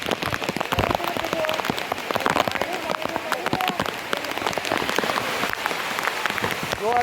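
Heavy monsoon rain beats down in the Girnar hills at Junagadh, a constant crackling patter of drops on hard surfaces that sounds close and dense, almost like applause, with faint voices now and then underneath.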